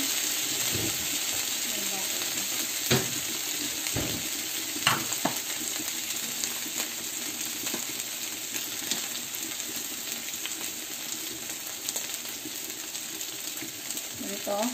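Salmon sizzles steadily in a pan with butter, a continuous frying hiss with occasional clinks of a utensil, close and fairly quiet throughout.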